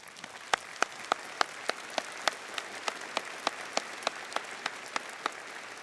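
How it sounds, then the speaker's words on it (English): A crowd applauds at the 2025 Milford High School graduation ceremony, with one close, sharp clapper beating a steady, evenly spaced rhythm above the softer wash of the audience. "Let's give them a round of applause."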